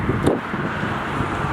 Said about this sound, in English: I do want to point out it's kind of windy today